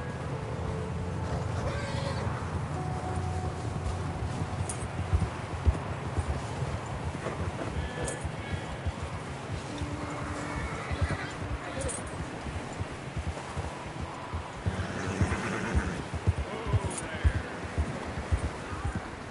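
Horses in Red Dead Redemption 2, hooves clip-clopping in a steady rhythm at moderate distance with occasional snorts or whinnies, all under a low ambient bed while characters talk.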